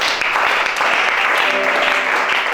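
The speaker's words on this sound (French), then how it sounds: "Acclamation." A church congregation bursts into dense, loud applause that continues steadily throughout, with a faint voice or tone rising beneath it near the end.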